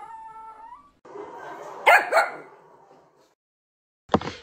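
A Russkiy toy dog vocalizes with a whiny, talkative string of yips and howl-like moans, close and fairly loud, ending in a sharp bark.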